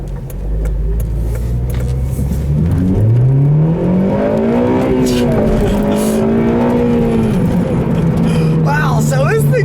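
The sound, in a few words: 2009 Honda Civic Si sedan accelerating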